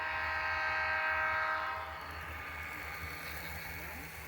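A freight train rumbles past with a loud horn blast at first that cuts off, leaving the steady low roar of the locomotive and cars.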